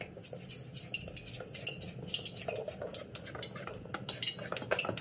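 Two spoons scoop and tap palm-fruit batter into a pan to make fritters, giving quick repeated metallic clinks and scrapes over a faint background sizzle, close and without talk.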